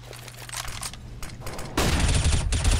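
Counter-Strike gunfire on the Cobblestone map during a FACEIT League match, rapid bursts sprayed through smoke, growing denser and louder toward the end.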